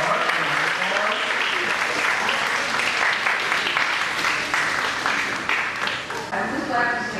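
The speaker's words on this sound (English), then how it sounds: "let's give them a round of applause again" Audience applause at a concert of Saint-Saëns' Piano Concerto No. 2 in G minor, a thick, continuous clatter of many hands, with voices and cheering mixed in and a brief dip near the end.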